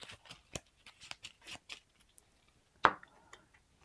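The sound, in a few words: shuffling cards into a deck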